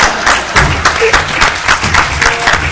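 Loud, dense applause from the audience at a DEF CON 11 hacking conference presentation, a steady wash of many hands clapping in rolling bursts, with no speech over it.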